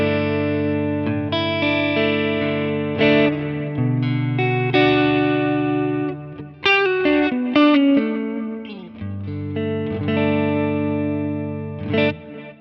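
Clean electric guitar with a dual chorus effect, played through a Quad Cortex into analog delay and reverb, rings out in sustained chords and picked notes, full and shimmering with a wide, wavering modulation.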